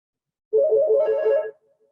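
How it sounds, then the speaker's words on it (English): A phone ringtone plays one short burst of about a second, a bright warbling electronic trill that cuts in from silence, close and clear, then stops abruptly. "That's my phone."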